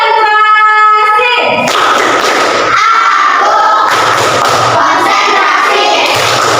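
Classroom children loudly chanting a concentration clapping routine together, rhythmic group claps and shouted words running continuously after a brief adult call at the start.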